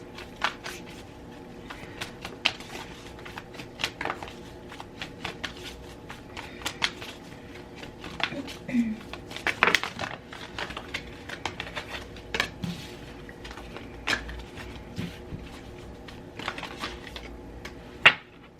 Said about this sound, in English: Let's see what other cards want to come out with you guys.